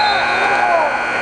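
Period-end buzzer at a high school wrestling match in a gym, a loud, steady electronic drone that holds for the whole short stretch, with a commentator's voice beneath it.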